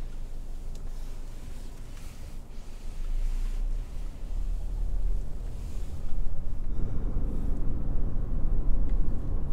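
A car driving along a road during LoRa mesh network wardriving, a steady broadband rumble of engine, tyres and wind that grows louder and rougher partway through, with no talking.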